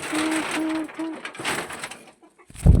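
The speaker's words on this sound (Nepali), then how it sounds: "बेबी ढुकुर" A dove coos three times in a soft, evenly spaced rhythm, followed by quieter rustling and a brief burst of handling noise at the end.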